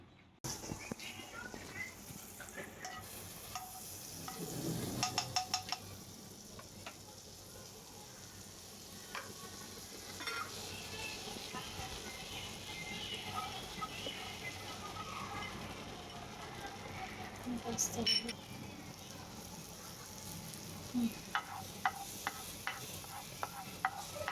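Chopped garlic and chopped dates sauté in butter in a pan for a creamy mushroom white sauce pasta, giving a continuous quiet sizzle with occasional stirring scrapes and clicks close by.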